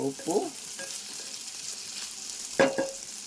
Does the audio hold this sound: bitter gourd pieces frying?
yes